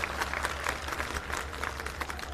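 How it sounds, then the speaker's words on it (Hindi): A crowd at a farmers' rally in Uttarakhand claps in a quick, rhythmic burst. The clapping sounds fairly distant over a low, constant hum. "एक बार जोरदार तालियां बजा दो अपने किसान भाइयों के लिए।"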